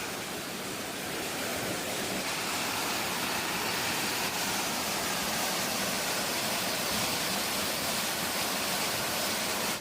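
Biryong Falls on Seoraksan mountain pours with a dense, constant roar of falling water, loud and unbroken from start to finish with no other sounds.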